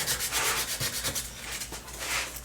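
Rough, continuous sanding scrapes with quick back-and-forth rubbing strokes on cured epoxy on a wooden push toy, close and fairly loud.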